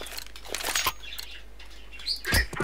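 A pet bird chirps in the background over a Discord voice chat during a CS2 game, a few short faint tweets and fluttery bursts amid low noise, with no talk.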